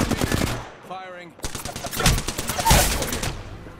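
Gunfire in the game Apex Legends: rapid bursts of automatic fire, loud and close, with a brief pause and a short game voice line before the shooting resumes in dense volleys.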